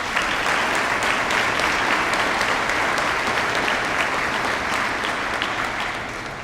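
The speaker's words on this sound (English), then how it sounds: "So I want you all just to give these graduates a round of applause." A large ceremony audience applauds graduates at an honors ceremony, a dense, even roar of many clapping hands that holds steady and tapers slightly at the end.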